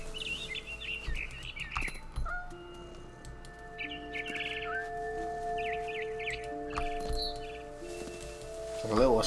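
A frightened bird chirps and tweets in short bright bursts through a quiet game scene, with several calls scattered over a soft background of steady tones and light footsteps.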